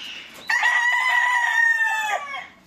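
A Sweater-breed gamefowl hen gives one loud, sustained crow-like call lasting about two seconds, close to the microphone, after a faint brief cluck.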